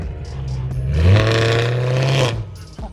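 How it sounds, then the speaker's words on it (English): A straight-piped BMW M3 with a roughly $6,000 exhaust revs once close by, the engine note rising sharply into a loud, raspy blare for about a second before dropping back to idle. "It's like the best sounding exhaust you could possibly buy."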